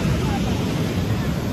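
Waves of the Arabian Sea on a Konkan beach make a steady, dense roar of surf. Wind rushes across the microphone, and no distinct individual breakers stand out.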